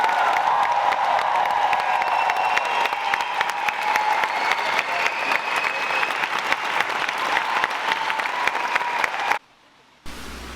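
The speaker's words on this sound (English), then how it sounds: "Biggest applause to Project Iceman team." Sustained, loud audience applause at a film premiere screening, a dense even wash of clapping with some crowd noise, cutting out briefly near the end.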